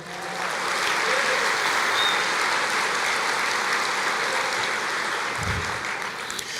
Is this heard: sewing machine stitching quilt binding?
no